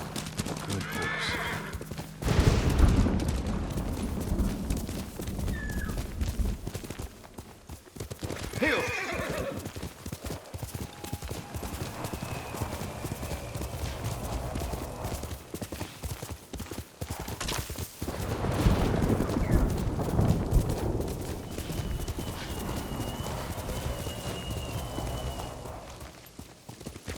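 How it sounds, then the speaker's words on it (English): A horse in the video game Ghost of Tsushima gallops with a steady, loud clip-clop of hooves throughout and gives several whinnies along the way, with surges of motion noise in between. "Good horse."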